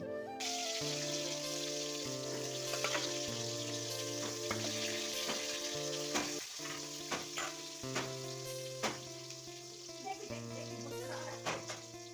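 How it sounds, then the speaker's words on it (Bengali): Eggplant slices fry in a pan with a continuous close sizzle, and a few soft clicks and pops sit over a steady tonal background hum. "আমি এদিকে বেগুনগুলোকে ভাজা করে নিচ্ছি"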